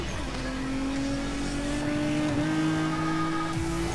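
Nissan Skyline in Need for Speed Most Wanted, its engine holding a steady drone with a pitch shift partway through and tire noise underneath, loud and continuous with no talking.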